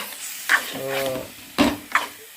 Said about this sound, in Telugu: ఈ విధంగా మొత్తం ఈ మసాలాతో ఫ్రై చేసుకోవాలి